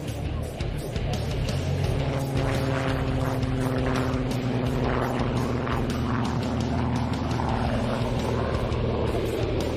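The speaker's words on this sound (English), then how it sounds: "this particular one, a Mark 14 powered by a Rolls-Royce Griffin engine" A Supermarine Spitfire Mark 14 with a Rolls-Royce Griffon engine flies at an air show, its loud, steady piston-engine drone rumbling continuously throughout.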